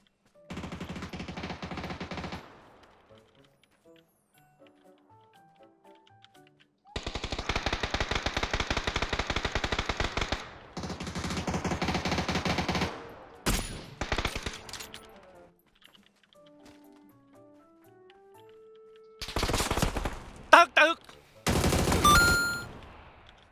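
MG3 machine gun fire in a video game, several long sustained bursts of rapid shots separated by quiet gaps with faint musical tones, loud and close.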